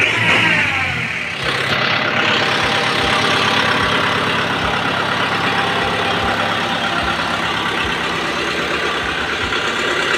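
A 2023 Kubota M6040 tractor idles steadily at close range, a continuous mid-pitched diesel rumble with an even pulsing rhythm that holds on its own throughout.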